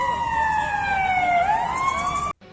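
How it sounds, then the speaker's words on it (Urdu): A wailing siren rises and falls continuously at a tree-planting world record event in Gujranwala, loud and sustained with faint traffic-like rumble beneath, then cuts off abruptly near the end. "ریکارڈ ساز کارنامے کے بعد سائرن بجائے گئے"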